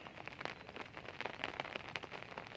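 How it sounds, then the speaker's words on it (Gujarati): Light drizzle falls steadily outdoors in Bhatia, a soft, continuous patter of fine raindrops on surfaces, faint and even throughout with no voices. "હજી ઝીણો ઝીણો વરસાદ આવે"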